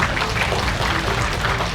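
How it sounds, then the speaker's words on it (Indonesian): An audience claps at the opening of a new healthy market in Banjaran, a steady, fairly loud wash of applause filling the short stretch with no voice above it. "Tepuk tangan sekali lagi"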